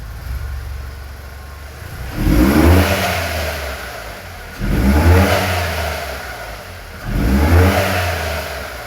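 A Skoda Fabia engine with a suspected stretched timing chain or worn guide revs three times in close succession, each rev a loud surge that rises and then settles back toward idle, heard close up with no talking.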